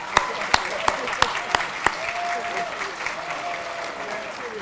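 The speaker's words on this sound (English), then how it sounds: "Let's give the folks one more round of applause here." A crowd at a Hall of Fame banquet claps in a steady round of applause, with a few loud, evenly spaced claps close by at the start and faint voices underneath.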